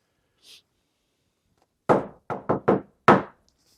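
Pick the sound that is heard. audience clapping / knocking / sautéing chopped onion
knocking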